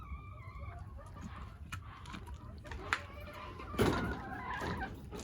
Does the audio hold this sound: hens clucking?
yes